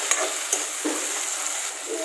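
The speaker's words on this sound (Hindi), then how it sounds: "अब मैं यहाँ पे डालूंगी टमाटर। इसको अच्छे से मिक्स कर लूंगी।" Tomatoes being stirred into a pan of browned suran (yam) curry, giving a steady hissing sizzle with a few soft scraping strokes, close and moderately loud, no voices.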